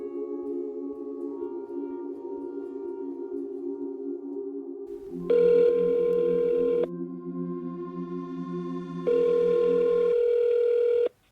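A steady telephone dial tone hums, then two long electronic ringing tones sound in turn, louder and brighter than the tone beneath.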